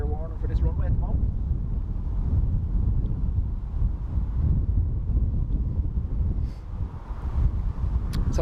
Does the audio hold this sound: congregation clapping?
no